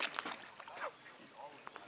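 A dog swims and paddles in water, with soft sloshing and light splashes coming close by and fairly faint, broken by short bursts of a person's speech.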